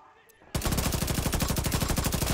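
An engineer's automated turret in The Division 2 at Castle Settlement abruptly opens up with loud, rapid, evenly pulsed automatic fire that continues without pause, close and dominant over faint background ambience.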